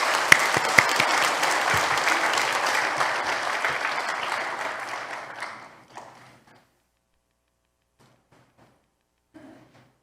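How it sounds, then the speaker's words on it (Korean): A church congregation at a Korean anniversary worship service claps loudly for about five seconds; the applause thins out and stops, followed by near silence with a few faint scattered sounds. "우리 박수로서 환영하시겠습니다"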